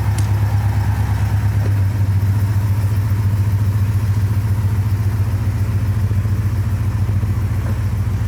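A Porsche 928 engine runs steadily at a low, even rumble while reversing, close by, with a slight shift in tone early on and no voices.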